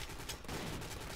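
Rapid gunfire in the video game Codename CURE, a dense burst of repeated shots packed together at steady loudness, close and without talk.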